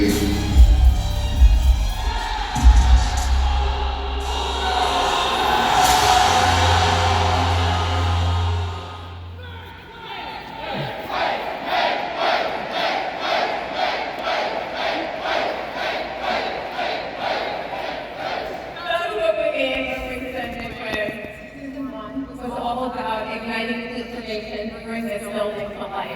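A basketball crowd at the Intuit Dome roars and cheers loudly and without a break, with rhythmic chanting and surging noise from a packed arena filling the whole stretch.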